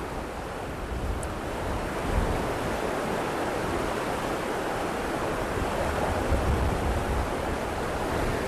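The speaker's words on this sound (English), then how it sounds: "This side, there's the way the water's flowing away from me." Fast river water rushing near a suspension bridge on a Denali National Park trail, a steady loud broadband roar that continues without a break and has a slight windy edge.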